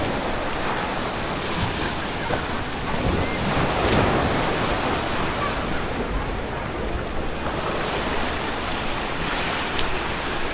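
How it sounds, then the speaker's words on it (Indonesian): Ocean waves wash onto Labuan Sait beach at Uluwatu, Bali, a continuous surging roar with gentle swells in loudness, heavy wind buffeting the microphone throughout. "Ombaknya sampai kesini-kesini."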